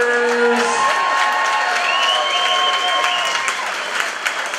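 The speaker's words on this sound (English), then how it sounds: "put your hands together for both of these fighters" A live MMA event crowd applauds and cheers for both fighters, with steady clapping and scattered whoops from a large audience, loud and continuous throughout.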